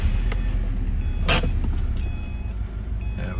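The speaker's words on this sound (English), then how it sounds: "when you start this thing up, this motor runs really quiet too" A 2010 Subaru Impreza STI wagon with a six-speed manual idles with a steady, low engine rumble, close by. One brief click sounds partway through.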